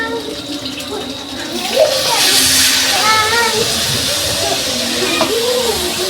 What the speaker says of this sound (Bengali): এবার গরম পানি দেব।